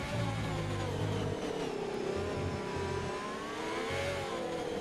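Racing car engines roar steadily in an F1 racing video game set in China, a loud continuous whine with shifting pitch as cars accelerate and pass, no voices over it.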